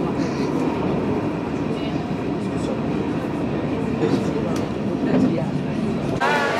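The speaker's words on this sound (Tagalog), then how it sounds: "Sakay na kami sa train. Tram pala." Steady rumble and rolling rail noise fill the inside of a tram as it travels, with a sharp squeal near the end.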